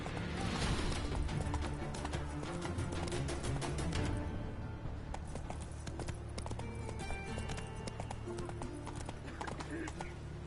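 The horse Roach gallops in The Witcher 3 video game, a quick, steady clip-clop of hooves running along, with game music and ambient sound beneath and a brief whinny.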